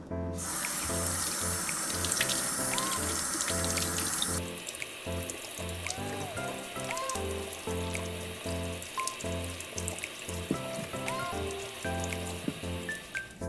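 Water runs steadily from a tap into a sink, splashing and gurgling over potatoes being rinsed, with the flow softening partway through.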